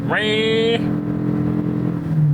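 The engine of a 2025 Toyota Crown Signia, a 2.5-litre hybrid with ECVT, revs up sharply from inside the cabin, then settles into a steady drone under brief talk.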